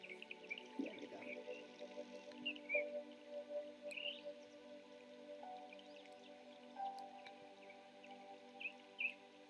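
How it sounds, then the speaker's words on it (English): Pet birds chirp indoors, scattered short tweets and calls repeating through the stretch at moderate distance, fairly quiet over a faint background hum. "Never mind the birds."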